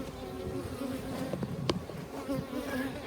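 Many honeybees buzz steadily up close around a hive frame, a dense, continuous drone with individual bees flitting past.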